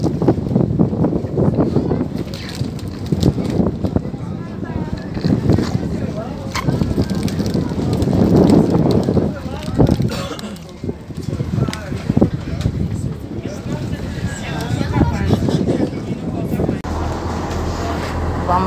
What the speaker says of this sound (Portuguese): Aqui é lancha normal,